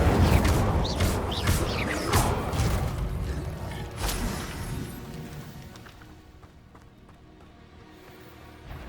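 A fire spell cast in the Hogwarts Legacy video game: a run of loud whooshing, crackling bursts and crash-like impacts over the first few seconds, fading into a quieter, darker rumble of game ambience.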